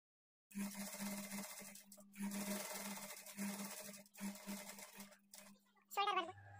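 Sewing machine running double stitching along a blouse sleeve, in several steady buzzing bursts with short pauses between them, heard up close and quiet, ending with a faint thump.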